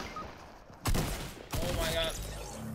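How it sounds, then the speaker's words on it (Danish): Gunfire rings out in the video game Fortnite as sharp, rapid bursts of shots, with a loud volley followed by another sustained string of fire. "Jeg kan bare høre skud, skud, skud, skud."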